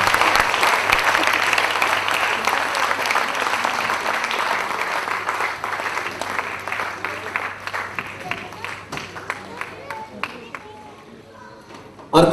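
Loud applause fills a hall at a guru's birthday celebration, dense at first and then thinning into distinct scattered claps toward the end.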